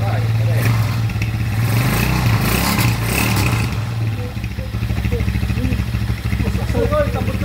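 A Euro 150 motorcycle fitted with a 200cc conversion engine revs steadily nearby, a loud mid-pitched engine drone that swells and dips, with people talking over it.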